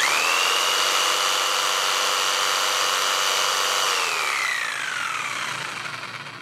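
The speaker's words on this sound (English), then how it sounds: "I'm going to power the jigsaw." A jigsaw powered by a Bluetti AC180 power station whines at a steady high pitch, close and loud, then winds down as the motor slows and fades.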